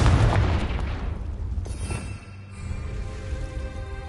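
A fiery spell blast in Hogwarts Legacy, a deep booming explosion that hits at once and rumbles away over a few seconds into quieter ambience.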